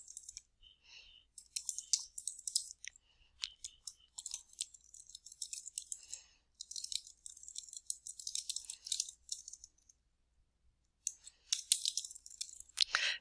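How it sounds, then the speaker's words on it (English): Keys clatter on a computer keyboard in quick irregular bursts of light clicks, with brief pauses between runs and one longer gap near the end. "And I'm just going to type my contact info."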